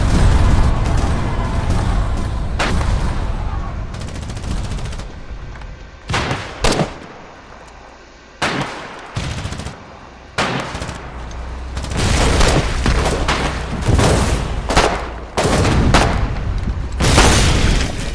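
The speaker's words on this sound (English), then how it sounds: "Incoming artillery!" Artillery barrages and explosions in a video game crash in repeated heavy booms and bursts of gunfire, loud and dense with brief gaps between volleys.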